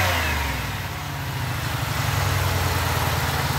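The engine of a 2006 Pontiac Grand Prix base model idles and then revs up, a close, steady mechanical drone with a pulsing low rumble and no talk over it.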